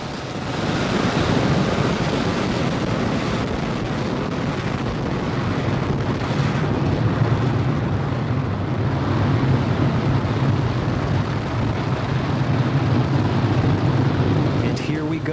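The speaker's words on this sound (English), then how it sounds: "All engines are running at full power" A SpaceX Falcon 9 rocket's engines roar at full power after liftoff on the Turksat 5A mission, a dense, continuous, crackling rumble heard from a distance that stays steady throughout.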